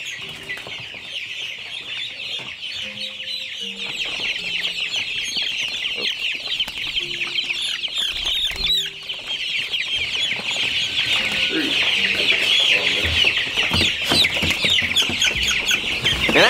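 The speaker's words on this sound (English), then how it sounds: "So my oldest son, Josiah, helped me take out the biggest and the oldest chicks from this brooder first." A crowd of young chicks peeps constantly and shrilly at close range while being lifted out of a brooder, with occasional handling bumps and faint low tones beneath the chirping.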